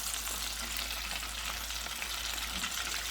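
Chicken drumsticks coated in batter and flour for homemade KFC-style chicken fry in hot oil, giving a steady, dense sizzle that holds evenly throughout, close and alone without talk.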